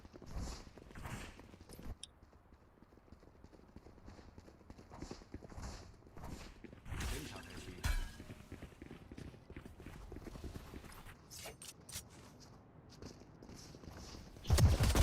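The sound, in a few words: footsteps in the video game Valorant Mobile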